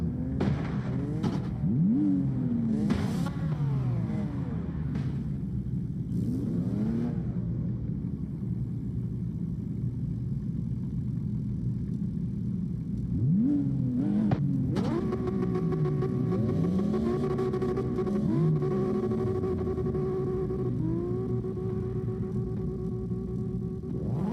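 Racing-game car engines, including an old Honda NSX, rev and shift repeatedly, rising and falling in pitch, with several cars at once under a steady engine drone.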